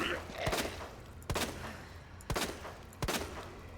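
Four loud gunshots fired at roughly evenly spaced intervals in the Resident Evil 2 Remake video game, each a sharp crack with a short reverberant tail over steady game ambience.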